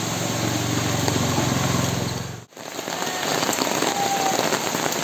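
Heavy rain pours steadily over a rural village, a dense, loud hiss of drops hitting surfaces. It continues without pause apart from a brief dip at the midpoint, and a low engine-like hum sits under the first half.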